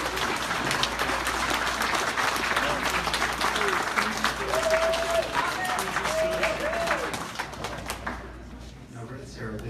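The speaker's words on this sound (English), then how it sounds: "let's give them another round of applause." An audience at a completion ceremony claps in a sustained, dense round of applause that thins toward the end, with scattered voices and brief tonal sounds mixed in.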